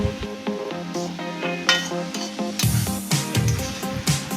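Restaurant-style fried rice, with a packet of powdered milk just added, sizzles in a pan while a utensil stirs and scrapes against the metal, the clinks and scrapes coming in irregular bursts close by.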